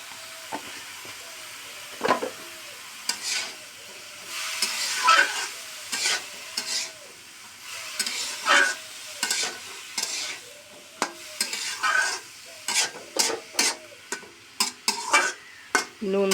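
Bottle gourd with shrimp and lentil dumplings stirred in a pan, a spatula scraping in repeated strokes over a steady sizzle of frying, close and fairly loud with no voices.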